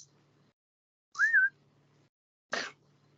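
A short rising-then-falling whistle, likely a person imitating a bird call, followed by a brief breathy burst, over a quiet background hum.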